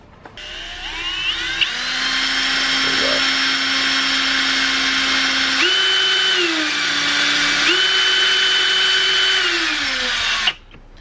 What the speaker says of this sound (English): Drill out these holes into this wing.